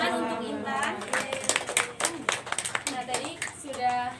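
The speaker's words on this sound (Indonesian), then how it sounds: "Tepuk tangan untuk Intan" Classroom clapping for a student during a primary-school science microteaching lesson, a run of sharp, uneven hand claps from children, mixed with young voices talking throughout.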